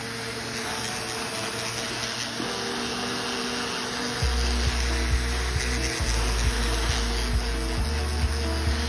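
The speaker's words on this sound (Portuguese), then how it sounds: "Posso usar até um ventiladorzinho para ajudar" A small electric fan runs steadily close by to dry skin during a facial treatment, a continuous motor whir and airy hum that deepens partway through, with no speech.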